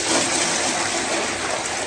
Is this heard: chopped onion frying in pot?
no